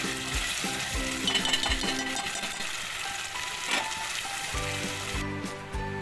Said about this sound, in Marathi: आता हे तेल सुटेपर्यंत झाकण लावून हा मसाला शिजवून घेऊ